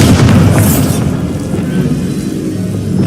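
A Bombarda exploding spell in Hogwarts Legacy goes off as a loud, deep boom right at the start, then a rumbling blast tail fades slowly over the next few seconds.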